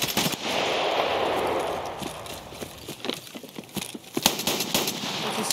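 Gunfire in the video game Escape from Tarkov: a sustained burst of automatic fire followed by sharp, uneven shots and cracks, loud and close.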